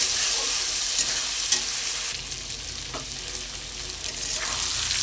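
Fried potatoes being stirred into sizzling masala in a pan for a fish and tomato curry, a loud steady frying hiss with a few spoon scrapes and knocks, up close with no talking.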